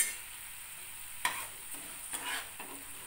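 Masala with sugar briefly stir-fried in a pan for a Bengali chana dal fritter curry, quiet sizzle broken by four or five distinct scraping stirs, close and fairly soft.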